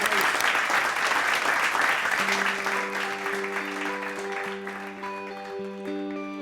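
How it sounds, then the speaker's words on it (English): Dense applause from onlookers at a poker tournament swells at first and then gradually fades, while sustained musical tones enter underneath and carry on after the clapping thins. "Let's have a round of applause for Gareth, please."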